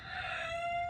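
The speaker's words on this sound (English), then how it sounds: "there goes my rooster" A rooster crows once in the distance, a brief, faint, strained call with a steady pitch that holds for under a second.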